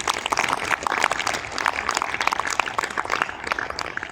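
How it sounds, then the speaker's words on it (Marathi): Audience claps to welcome a guest at a stage felicitation ceremony, a scattered, steady patter of many hands heard from a short distance, moderately loud and without talk. "सर्वांनी तीन टाळ्या वाजून त्यांचं स्वागत करायचं आहे"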